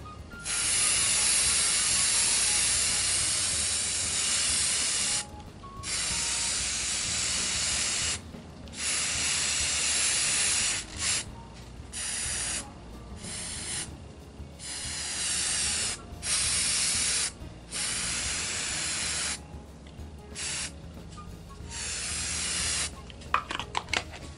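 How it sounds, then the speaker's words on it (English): Repeated bursts of aerosol spray paint hissing from a can onto ceramic coasters, long and short sprays separated by brief silent pauses. "And then just lightly spray"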